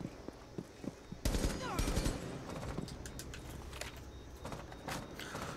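Rapid bursts of gunfire in the tactical shooter Rainbow Six Siege, a loud volley opening the stretch and continuing in dense, overlapping shots among game sounds.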